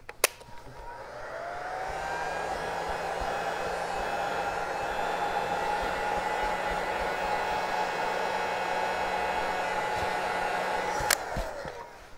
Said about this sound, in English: Trust the old Craftsman hot air gun we got here.